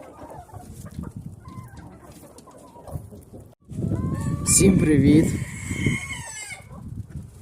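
Hens cluck and a rooster crows nearby, busy farmyard chatter rising midway as the chickens are let outside, with someone speaking briefly at the start.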